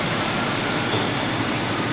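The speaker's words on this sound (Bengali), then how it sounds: "তো আমাদের ট্রেনটা ছেড়ে দিয়েছে।" A train moving out of Howrah station, a dense, steady rumble of wheels and carriage noise heard from on board, loud and continuous with no voices.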